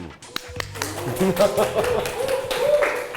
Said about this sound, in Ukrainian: Такі аплодисменти